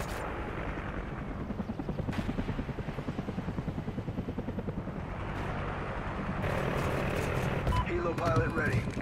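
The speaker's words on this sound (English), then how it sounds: "Friendly chopper inbound." Friendly military helicopter flying in during Call of Duty Ghosts gameplay, a steady rapid rotor chop that grows louder toward the end, mixed with game effects and voice chatter.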